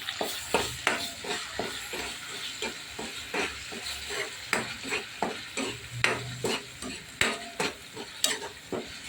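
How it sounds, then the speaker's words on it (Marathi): Masala being sautéed in a hot pan while cooking urad dal dumplings with turmeric, a steady sizzle broken by rhythmic scraping strokes of a spoon, close and continuous with no voices. "छान परतवून घ्यायचा मसाला."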